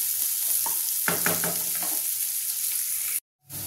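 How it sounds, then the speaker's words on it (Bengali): Onions sizzle steadily in a hot pan, a constant bright crackle with a few scraping stirs, close by, before the sound cuts out abruptly near the end. "পেঁয়াজটাকে আমি লাল লাল করে ভেজে নেবো"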